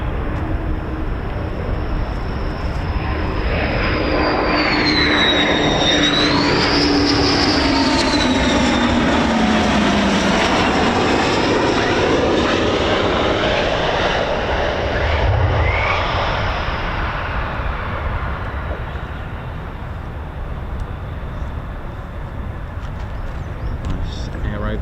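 US Air Force F-15 or F-35 fighter jet landing at RAF Lakenheath with aerodynamic braking, a loud continuous jet roar with sweeping whine that swells and fades over about 25 seconds, people talking over it.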